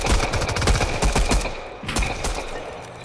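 Rapid automatic gunfire in Fortnite aimed at a building wall, a dense, close string of shots with impact crackle that continues for the whole stretch, slightly easing toward the end.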